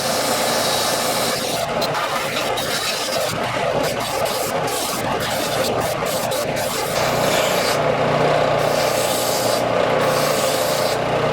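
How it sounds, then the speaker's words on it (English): A belt sander grinds and smooths the metal of an axe head, a loud continuous abrasive roar with a motor hum beneath it. The pitch and pressure shift slightly as the blade moves against the belt. No voices. "just back on the belt sander, smooth it out a little bit"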